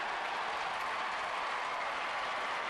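Baseball stadium crowd applauding pitcher Jonathan Sanchez at a San Francisco home game, a dense, steady roar of clapping from a large crowd, continuous and even without any speech.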